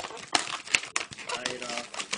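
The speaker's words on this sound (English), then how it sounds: "Then you take this part, rip it off," A twisting balloon being ripped while making a panda bear balloon figure, heard as sharp crinkling squeaks and snaps with a brief tearing quality, close and fairly loud.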